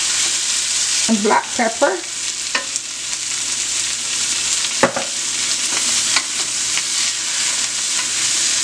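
Onions and seasonings frying in a pot for Bajan stew food with saltfish gravy hiss in a steady, low sizzle, broken by a few spoon stirs and clinks, with someone talking over it near the start.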